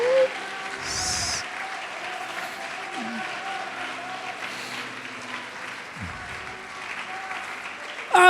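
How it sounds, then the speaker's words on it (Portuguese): A church congregation applauding, a steady wash of clapping from many hands that carries on under a faint, reverberant voice, moderately loud throughout. "Pode aplaudir e glorificar a Deus."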